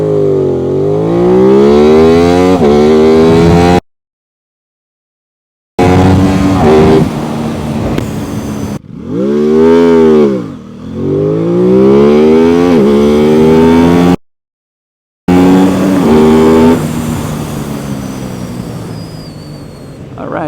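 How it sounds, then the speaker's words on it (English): Sport motorcycle, an Aprilia RS 660 or CFMOTO 675SR-R, revving hard through rising gear sweeps in a 0 to 100 km/h run, loud and close, with short silent gaps between bursts. "So we're gonna measure 0 to 100 km/h acceleration once again."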